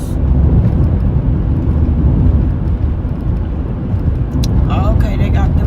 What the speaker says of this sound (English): Okay, they got them some tanker trucks.